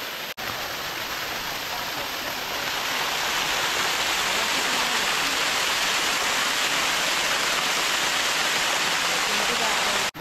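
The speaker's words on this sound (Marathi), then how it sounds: "पाठी बघा बघा कसला धबधबा आहे बघा." A waterfall roars steadily, a dense unbroken rush of water that stays loud and constant from start to finish.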